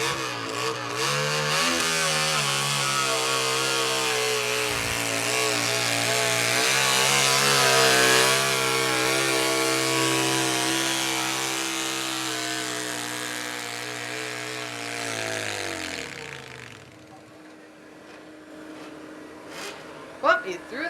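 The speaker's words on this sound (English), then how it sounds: "650 Honda Silver Wing motorcycle engine is what he is using in this garden tractor" A garden tractor powered by a 650 Honda Silver Wing motorcycle engine roars at a steady high pitch during a tractor pull, strains under load for a long stretch, then winds down, with a voice talking over the engine.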